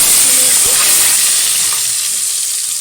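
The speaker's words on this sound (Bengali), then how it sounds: "এবার আমি একটু ভেজে নেব ভালো করে আলুটা" Potato pieces fry in a cooking pot with a dense, steady sizzle and hiss, close and continuous, with a faint stir partway through.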